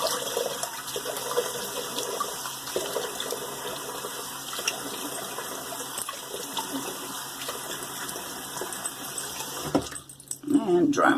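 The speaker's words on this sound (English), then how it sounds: "So let me rinse this alum off." Tap water runs steadily as alum is rinsed off after shaving, a continuous close splash and hiss with someone talking over it, then a sharper burst of water near the end.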